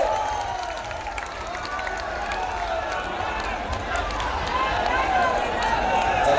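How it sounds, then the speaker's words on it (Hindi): A large crowd at a political rally in Azamgarh applauds steadily, a dense wash of clapping and cheering that holds at an even, loud level throughout. "एक बार दोनों हाथ उठाकर भारत के भविष्य पीढ़ियों के सर्वमान नेता का तालियां बजाकर स्वागत करिए"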